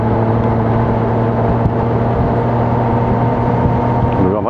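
A Royal Enfield Himalayan motorcycle engine drones steadily while riding at around 80 km/h, a loud, continuous low hum with wind noise throughout.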